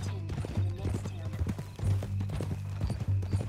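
Horse hooves clip-clop in a steady rhythm in Red Dead Redemption 2, the close hoof beats ringing out alongside spoken dialogue.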